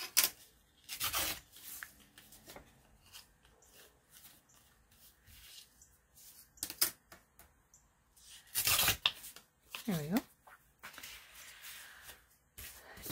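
Tea-dyed paper torn by hand into 2.5-inch squares, heard as a series of close, rough ripping and rustling bursts spread irregularly across the stretch, with quiet pauses between tears.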